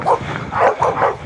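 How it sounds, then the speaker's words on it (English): A dog barks in a quick run of three or four loud, close barks with a yipping edge, alone without talk. "there's a dog."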